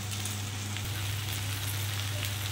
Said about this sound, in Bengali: এবারে আমি ওই কড়াইয়ের মধ্যে আর 2 চামচ মতো তেল দিলাম।